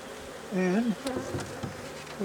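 Honey bees buzz loudly after being disturbed during a backyard hive inspection, with a rising whine of nearby wingbeats over a low background hum and a few sharp knocks.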